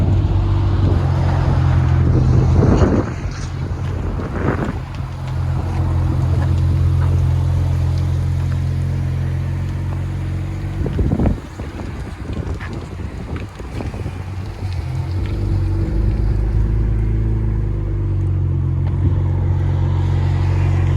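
2007 BMW 335i with dual exhaust and muffler delete idling, a deep steady low rumble held throughout, with a few brief knocks and rustles and some wind noise on the microphone, no talking.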